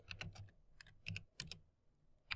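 Keys clatter on a computer keyboard in quick bursts of clicks with short pauses between, close and quiet, without talk.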